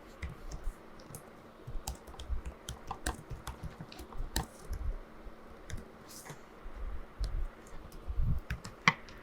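Rapid, uneven keystrokes on a computer keyboard as a school name and address are typed into an online form, close and clear with no talk over them.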